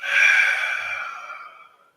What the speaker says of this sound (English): Take a deep inhale in and exhale out.